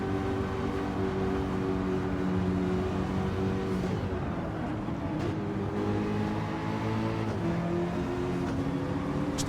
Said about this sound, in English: these two cars hooning around together. It must sound phenomenal.